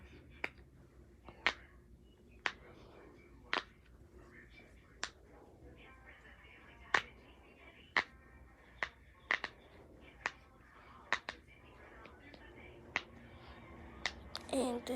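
Sharp little pops from the loud side of a unicorn fidget toy, about fifteen separate clicks spaced irregularly at close range, each crisp and short over a quiet room.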